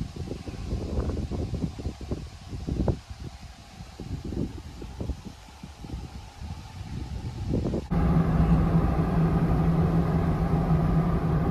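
Gusty wind buffets the microphone in rough bursts on a trail to Flagpole Knob, Virginia, then gives way to a steadier rumble with an engine-like hum.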